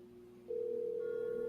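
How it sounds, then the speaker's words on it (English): A steady electronic ringback tone starts after a brief quiet on a Mint Mobile cell phone call and holds evenly, cut off by a sudden noise at the end. "It's ringing."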